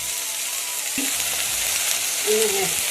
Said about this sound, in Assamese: অলপ তেল দি, অলপ হালধি আৰু নিমখ পাত এনেকৈ ভাজি আছোঁ দুপৰীয়া